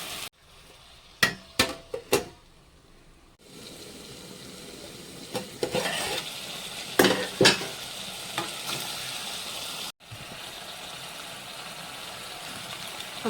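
Village-style spicy deshi chicken curry fries in a pan while being stirred: a few sharp scraping strokes up front, then a steady close sizzle with scattered stirring scrapes and a brief drop near the end.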